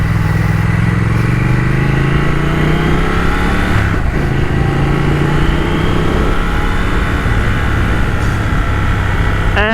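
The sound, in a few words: Triumph Thruxton RS motorcycle engine while riding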